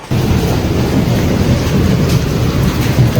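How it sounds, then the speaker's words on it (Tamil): Heavy rain pours steadily during an evening trip in KGF, a loud dense broadband wash with a deep low rumble that holds constant throughout, with no talking. "மழை அச்சு பிச்சு தள்ளினுங்குது"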